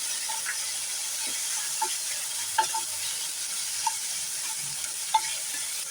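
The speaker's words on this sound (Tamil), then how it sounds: "நல்லா ஒரு 2 நிமிஷம் நல்லா வதங்கலாம்" Mushroom and paneer sautéing in a hot pan for pepper gravy, a steady close sizzle and hiss with occasional light clicks of a spatula stirring, no voices.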